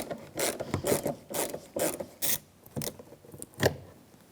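A ratchet removes the main mounting bolts from a 2013-2018 Toyota front door panel, making a series of close, rapid clicking and rasping bursts in uneven bunches with short gaps between them.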